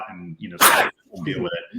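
A single sharp sneeze bursts out in the middle of a man's speech, loud and close, with talking just before and after it.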